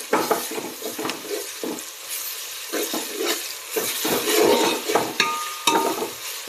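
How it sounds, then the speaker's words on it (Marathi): Turmeric and tomato masala sautéing in a pan for mutton biryani, with bursts of sizzling and repeated scraping and stirring strokes of a spoon against the pan, close and clear with no talking. "थोड्या वेळेला असंच परतून घेऊया."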